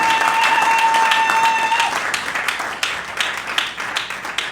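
A church congregation at a Sunday service claps and applauds loudly for several seconds, dense hand claps filling the room and gradually thinning toward the end, with a sustained tone early on.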